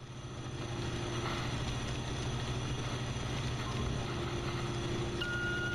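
A loud Bitcoin miner runs in the video game Voices of the Void, giving a constant mechanical hum with steady tonal whine and faint rattling, unbroken throughout.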